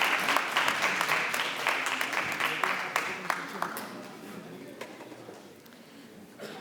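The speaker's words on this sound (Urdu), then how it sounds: "پروفیسر ڈاکٹر ناصرہ خاتون صاحبہ کو آپ کی پرزور تالیوں میں اسٹیج پہ بلانے کی دعوت دوں گی۔" Audience at a university golden jubilee ceremony in Karachi's applied physics department clapping for a dean called to the stage, moderate applause that thins and fades out over several seconds with faint crowd murmur.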